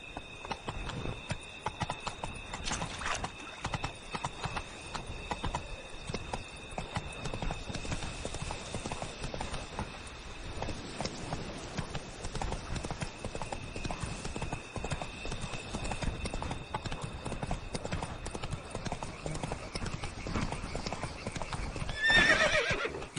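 Roach, a horse in The Witcher video game, gallops in a fast, continuous clip-clop of hooves, ending with a loud whinny near the close.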